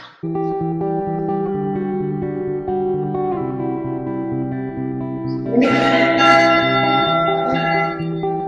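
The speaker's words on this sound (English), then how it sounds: "3 times I have to pull up and down, and that's when it starts ringing the bell" A big church bell on the island in Lake Bled, Slovenia, rung by pulling a rope, rings with a sustained, humming tone that swells louder partway through and keeps resonating without pause.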